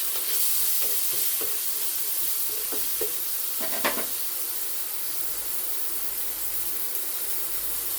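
Chopped onion with salt sizzles steadily in a frying pan, a constant hissing bed with a few stirring clicks early on and one louder scrape midway; no talking.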